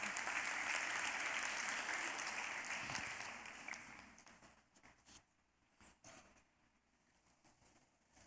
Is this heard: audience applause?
yes